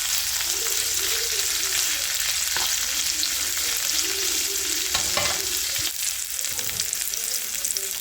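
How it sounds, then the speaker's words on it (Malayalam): Onions sauté in a hot pan with a dense, steady sizzle, broken by a few stirring scrapes and knocks, close and continuous with no talking. "ഇതിലേക്ക് നമുക്ക് സവാള ഇട്ട് കൊടുക്കാം നമുക്ക് വഴറ്റിയെടുക്കാം"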